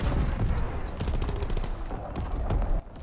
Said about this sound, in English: What is that trooper shooting at?